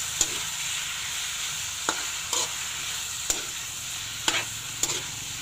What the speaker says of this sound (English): And now, we're going to mix our squid.